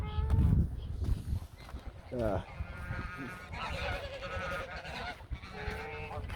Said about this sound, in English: hello, geese again